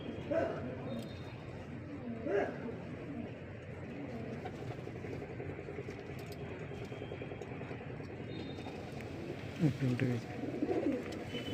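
Quiet, low pigeon coos murmur in the background, repeating softly while people talk nearby and a dog briefly barks.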